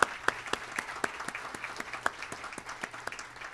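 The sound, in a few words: audience applause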